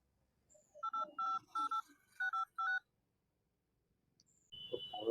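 A telephone being dialed, six distinct two-tone keypad beeps in quick succession, followed after a pause by a short tone and then faint rustling and background noise.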